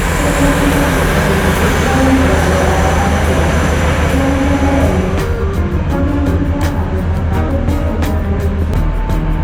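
Prameks commuter train at Lempuyangan station, a dense continuous rumble of rolling wheels and carriage noise, loud and close, with faint ticking clatter toward the end.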